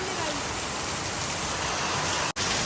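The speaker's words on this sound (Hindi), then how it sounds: "एकदम तेज से बारिश स्टार्ट हो गई है।" Heavy rain pours down outdoors during a sudden daytime downpour with strong wind, a dense, steady roar of water filling the scene from start to finish, broken only by a brief cut near the end.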